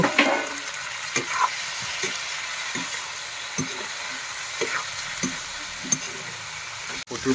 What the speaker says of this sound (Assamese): আলু দি পেলাই। লগতে নৰসিংহ পাতো দিলোঁ। নৰসিংহ পাত দি এতিয়া ভাজি আছোঁ মাংসটো